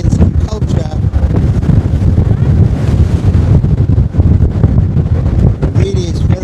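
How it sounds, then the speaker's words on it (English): Loud, gusty wind buffets the microphone in a roaring rumble aboard a sailing boat near the shore, with a voice faintly heard underneath. "it's very, very windy"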